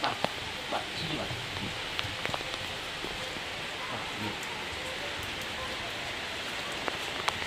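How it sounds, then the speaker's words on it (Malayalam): Steady rain patters on surfaces, with scattered sharper drips and taps standing out against the constant hiss. "മഴ വന്നു"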